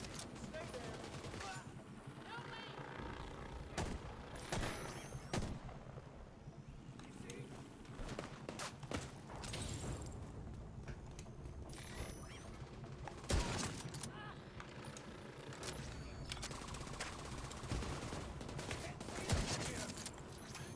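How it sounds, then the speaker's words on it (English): SMG gunfire in the video game The Division 2, with rapid bursts of shots and scattered cracks repeating over a busy battle din while someone talks throughout. "Yeah, SMGs are really good in this game."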